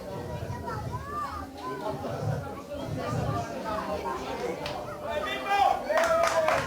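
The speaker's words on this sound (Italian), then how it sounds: "Applausi, bello forte, vai, tutti quanti insieme." Clapping from an audience at a live comedy show in a restaurant during a baptism celebration rises amid lively chatter and children's voices, with a busy, crowded feel throughout.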